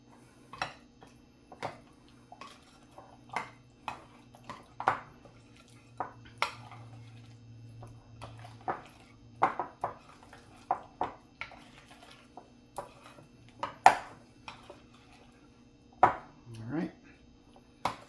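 An egg mixture for stuffed manicotti with spinach is stirred in a bowl, giving light, irregular clinks and taps of a utensil against the bowl over a low steady hum. A voice speaks briefly in places.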